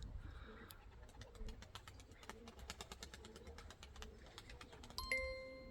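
Soft cooing and chirping from a young pigeon, mixed with rustling and clicking movement nearby, with a brighter sharp sound near the end.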